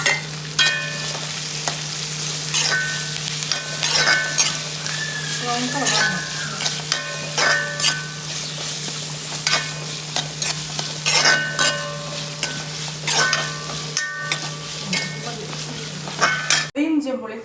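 Ginger, garlic, green chilli and curry leaves sizzle steadily in hot oil in a pan, with repeated scraping stirs and light metallic clinks of a spoon against the vessel.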